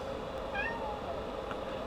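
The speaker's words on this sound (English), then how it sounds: "And a kitty came in." A cat meows a few times on an electronics workbench, short faint mews over a steady background hum, with no talking.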